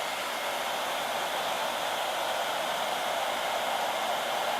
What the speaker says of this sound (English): So turn on the hairdryer, put the ping pong ball in the airstream